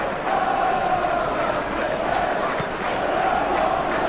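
A packed stadium crowd in a PES 2021 football match between Manchester City and Newcastle United roars in a steady, loud, rolling wash of cheers and chants.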